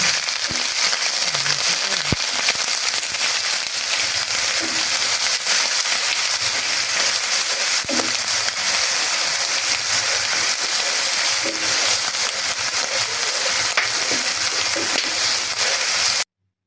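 Spices with ginger paste and bay leaves, cooked for a pigeon curry, stirred and frying in a pan, producing a steady loud crackling sizzle with scattered stirring knocks and no voices.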